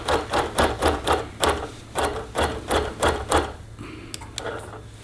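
A Q-Matic longarm quilting machine stitching with a rapid, regular chattering rhythm over a low motor hum. It fades to softer, sparser ticks near the end.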